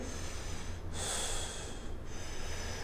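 A forceful exhale pushed out hard while bracing the core, a single breathy hiss of about a second standing out over a steady low background hum.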